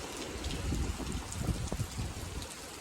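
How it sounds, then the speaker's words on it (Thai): Steady rain falling outdoors in Xaisomboun province, Laos, during the rainy season, a soft continuous hiss of drops on surfaces, fairly faint and even, with no voices. "ตอนเที่ยงมาแล้วฝนตกเลย"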